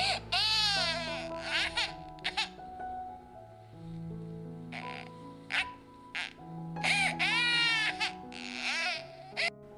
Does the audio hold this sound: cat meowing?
no